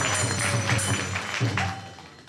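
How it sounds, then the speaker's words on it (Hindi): An audience at a Jagannath temple gathering in Singapore claps loudly and steadily for about two seconds, a dense wash of hand claps over a faint sustained musical tone. "जोरदार हाथों से तालियां कर दो।"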